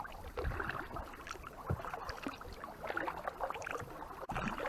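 Canoe or kayak paddling on open water, with soft, steady splashes and watery swishes over continuous wind rush from near the boat.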